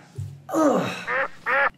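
A duck quacks three times, close and loud, with one drawn-out call followed by two shorter, evenly spaced quacks over a quiet background.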